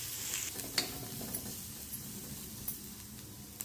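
Onions sautéing with turmeric, asafoetida, salt, chilli powder and garam masala in a pan for a tomato tava sabzi, a steady close sizzle with a few soft scrape clicks from stirring.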